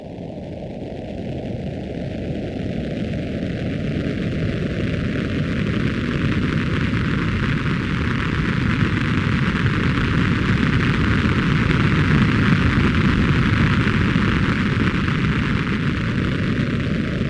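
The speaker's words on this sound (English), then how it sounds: "The main burn is made from notched filtered noise, notched out mids that is, and gives the engine that typical hollow jet sound." A synthesized jet engine main burn built from notched filtered noise, a dense, hollow roar with scooped-out mids that holds steady and slowly swells over many seconds, with no voices.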